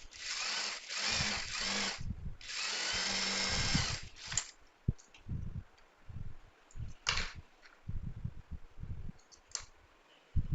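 A sewing machine stitches the seam of a child's frock. It gives two loud, close whirring bursts of a few seconds each, followed by scattered quieter clicks and handling knocks.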